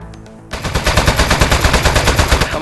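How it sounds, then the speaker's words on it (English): Rapid automatic gunfire from a video game, Aperture Desk Job, bursts in loud and keeps up a steady stuttering rhythm after a brief quiet start. "And you shoot with the right trigger like normal."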